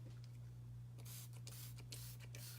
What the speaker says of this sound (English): I will spray it with a little bit of water